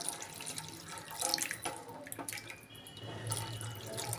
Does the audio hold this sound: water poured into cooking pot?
yes